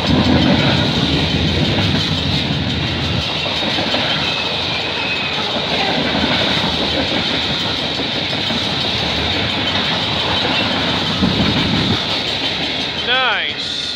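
A heavily loaded CP freight train rolls past on the Milburough Line at Mile 40 on a frigid evening, a loud, continuous rumble and clatter of wagons with a brief wheel squeal near the end.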